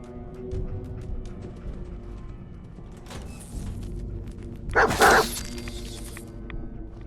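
Dogmeat, the dog companion in the Fallout 4 video game, gives a short bark burst midway through a steady game soundscape of low ambient rumble and scattered clicks, with no talking.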